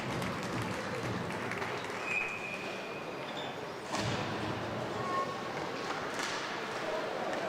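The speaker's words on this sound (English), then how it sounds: "They applaud the efforts of Jack LaSala." A crowd at a freshman high school hockey game applauds in an arena, a moderate, sustained clatter of clapping under a commentator's voice, with occasional thuds from the rink.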